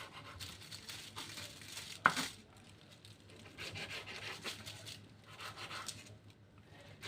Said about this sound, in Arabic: هبدأ اقطع صدور الفراخ لقطع صغيرة